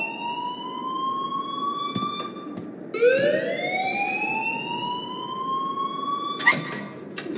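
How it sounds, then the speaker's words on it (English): A game alarm from Life is Strange wails continuously, its pitch dipping and then climbing again in a siren-like sweep. It sounds loud and steady, with a brief burst of noise near the end. "please turn off that alarm since that's your job"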